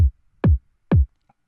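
Three punchy kick drum hits from a sample pack with distortion and saturation, evenly spaced and heard alone, each a short, deep thump.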